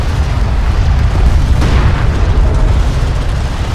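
A destroyed light attack vehicle explodes in the desert strategy game Homeworld: Deserts of Kharak, a loud, continuous rumbling blast with heavy low-end roar sustained throughout.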